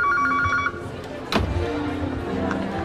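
A telephone rings in a short burst at the start, then stops, and a voice answers.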